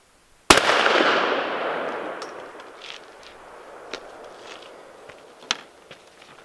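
A single loud .410 shotgun blast fired with a full choke at a paper target outdoors, a sharp report that trails off over a couple of seconds, followed by a few faint clicks and handling sounds.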